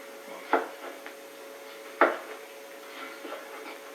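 Knife slicing a lemon on a cutting board, two distinct knocks of the blade against the board with a few fainter cuts between, close but fairly soft over a steady low hum.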